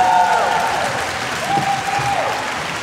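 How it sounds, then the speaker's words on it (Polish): Brief loud applause from a Polish audience at a film event at an art academy greets the guests, with a tone ringing out above the clapping. "Wielkie brawa."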